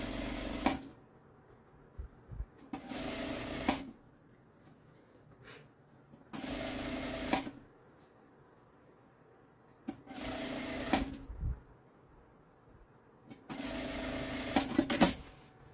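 Sewing machine stitching a bag lining, running in four separate bursts of a few seconds each with quiet pauses between, close and steady with no talking.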